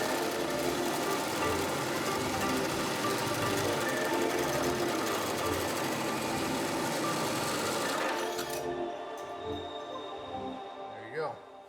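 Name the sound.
drilling through layered metal of a Fox Mustang frame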